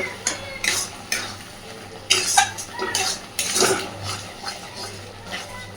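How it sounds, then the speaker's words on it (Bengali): Cauliflower leaf paste fries in a wok, with repeated scraping strokes of a spatula against the pan over a soft, close sizzle. "এইবার আবারও ভাজতে থাকবো।"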